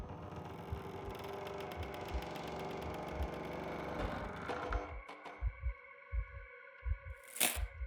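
Heartbeat in the horror game Killer Frequency, a slow, deep thumping of paired beats that grows clear after a droning mechanical buzz fades, close and pronounced with no voices.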